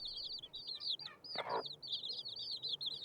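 Chicks peep steadily in high, rapid chirps, with a brief low cluck-like rustle partway through, all faint and nearby.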